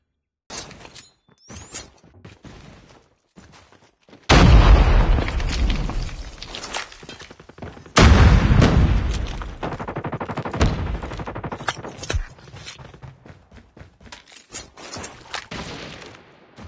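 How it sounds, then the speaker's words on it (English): Loud bursts of bomb explosions and rapid gunfire in a video game, erupting twice in heavy booming waves with crackling shots continuing between them, after a quieter stretch of scattered clicks. "Enemy has dropped a bomb."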